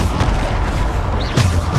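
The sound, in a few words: Bombarda spell explosion in video game Hogwarts Legacy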